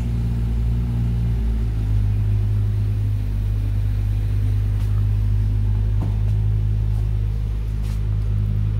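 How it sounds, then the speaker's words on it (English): A Ferrari on a town street, its engine giving a loud, steady low rumble that holds throughout as it idles or rolls close by. "It's a Ferrari."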